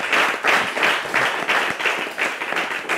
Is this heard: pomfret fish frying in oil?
no